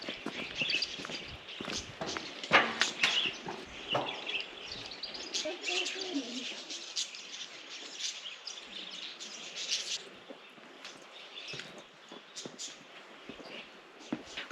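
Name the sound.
many birds chirping in Australian outback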